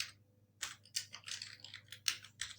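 Quiet, close keystrokes on a computer keyboard come in a quick irregular run of clicks after a short pause, with no talking.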